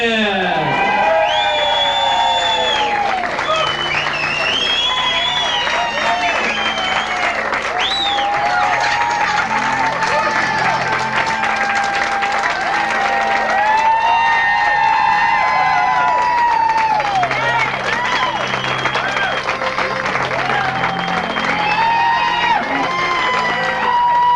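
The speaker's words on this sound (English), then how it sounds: "Applause for Sandy and Pete as they take the floor for their first dance" Wedding guests applaud a newlywed couple's entrance at their reception. Loud, sustained clapping mixes with cheers and whoops, and the dense crowd sound holds steady throughout.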